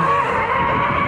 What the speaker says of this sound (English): It doesn't sound like Volvo. No, it sounds like a 6-cylinder.